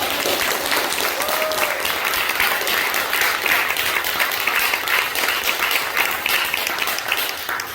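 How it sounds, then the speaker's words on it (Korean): A church congregation claps together during a Korean worship service, producing a steady, full wash of applause that holds at an even level throughout before easing slightly at the end. "박수 한번 내주세요."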